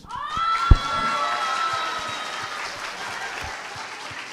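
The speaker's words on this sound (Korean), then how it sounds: "지금 이 박수는 가장 절절한 박수로 들렸습니다." Outdoor political rally crowd in central Daegu breaks into loud, sustained applause mixed with cheers and shouts, with a sharp whistle-like cry near the start, the clapping continuing steadily throughout.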